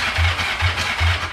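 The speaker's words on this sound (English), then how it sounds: "Let's give this thing an official start and see how she sounds." A vintage motorcycle engine with no muffler chugs in rough, uneven pulses, about three loud thumping beats in a short burst, close to the microphone.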